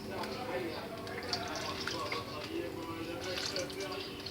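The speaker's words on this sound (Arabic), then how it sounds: "انا كده هبتدي انزل هنا دول شويه ميه سخنين كده" Hot water is poured into a roasting tray holding chicken pieces, a soft continuous trickle and splash heard faintly over a kitchen background.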